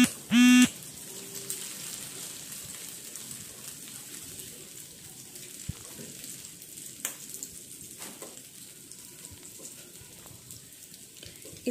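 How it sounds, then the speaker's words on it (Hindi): Mutton seekh kababs fry in oil in a pan, giving a steady, quiet sizzle and crackle throughout, with one brief louder tone near the start. "इसे सिकने में थोड़ा टाइम लगेगा फ्रेंड्स, हम एक चम्मच की मदद से सारा ऑयल ऊपर डालेंगे इस पे"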